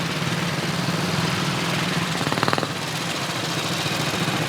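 WWII motorcycles such as a Matchless G3, Royal Enfield RE350 and M20 moving off together at a warbike display at the Overlord Show, giving a steady blended engine drone with a brief louder rattling burst midway.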